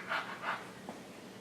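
A young child imitates a dog with two short breathy barking sounds followed by softer panting-like noises, close to the microphone in a quiet room.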